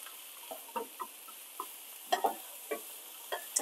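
Onion rings fry gently over medium-low heat in the bistek pan, a faint low sizzle broken by scattered light taps and clicks of a utensil breaking them apart; close but quiet, no speech.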